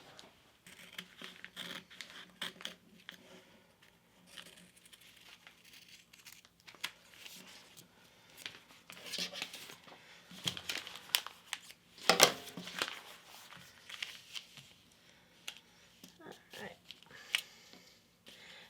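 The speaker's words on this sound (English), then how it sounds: "now I'm just going to get my fabric scissors" Fabric being snipped with fabric scissors, several crisp cuts and rustling, with a person talking quietly in between.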